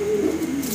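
A fancy Karmona pigeon gives a short, close, steady coo.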